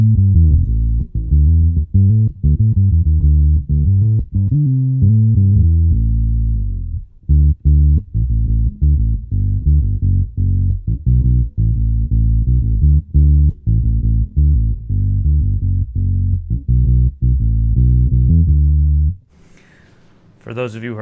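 An Epiphone Newport vintage short-scale bass, tone knob rolled fully up, plays a steady run of round, deep notes at close range, ending in a short stretch of talking.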